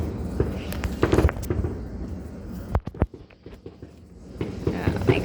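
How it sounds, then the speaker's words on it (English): Fireworks going off at a Fourth of July celebration, a series of sharp crackling pops and bangs of moderate loudness, with excited voices talking nearby. "It's a firework."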